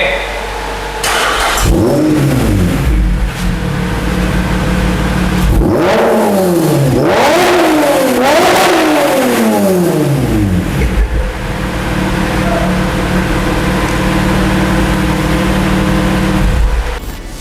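A loud motorcycle exhaust revs up close several times, rising and falling roars between stretches of idling, with voices in the background.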